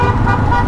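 A support truck on a mountain road in Tibet gives one loud, close, sustained horn blast lasting under a second.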